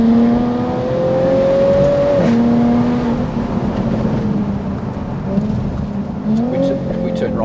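A 2014 Jaguar F-Type's engine and exhaust drone steadily while cruising, a loud sustained tonal hum that shifts pitch as the revs change, with tire and road noise underneath and occupants talking in the cabin.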